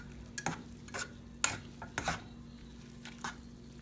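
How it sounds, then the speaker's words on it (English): Cilantro, green onion, carrots and garlic get stirred in a pan, with a series of sharp, close scrapes and taps of a utensil over a low, quiet sizzle. "Cilantro, green onion, carrots, garlic, stir it."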